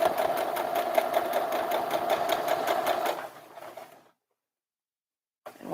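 A sewing machine stitches a little girl's dress in a fast, steady run of close mechanical chatter for about three seconds, then slows and stops into silence before a brief noise resumes.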